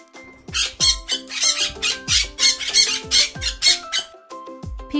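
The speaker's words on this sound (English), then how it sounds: "A parrot squawks and can copy words." A parrot squawks repeatedly in a quick series of loud, close, harsh calls over a light rhythmic beat, with no voices.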